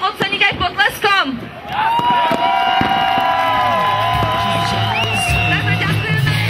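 Crowd at a New Year's Eve fireworks show in Dubnica nad Váhom, cheering and clapping as a broad hubbub after someone speaks through a loudspeaker, with music tones rising over the noise.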